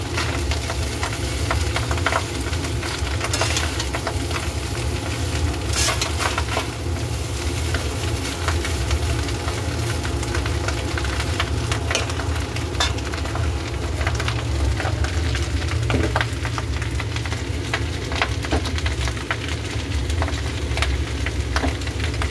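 A spice mixture with sugar and white oil is stirred in a hot pan, a continuous low sizzle and frying hiss with scattered scraping clicks from the stirring, steady and close throughout with no talking.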